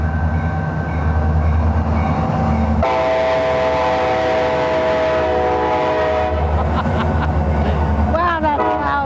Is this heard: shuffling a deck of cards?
no